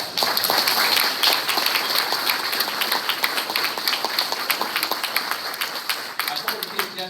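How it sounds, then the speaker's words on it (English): Dense, sustained audience applause for a student jazz ensemble at a summer music camp, close and loud with a steady wash of clapping throughout. "So round of applause for the name"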